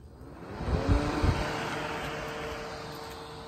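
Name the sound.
DeWalt 20V battery fan blowing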